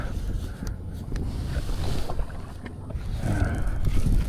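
Wind gusting over a small boat out on open water, buffeting the microphone in uneven rumbling surges with faint water sounds beneath, growing louder toward the end.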